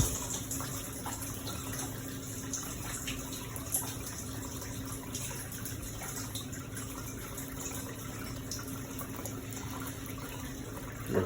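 Water draining out of a Hoshizaki KM-901 ice maker during cleaning, a steady, continuous low-level flow and trickle with no pauses, fairly quiet and unbroken throughout.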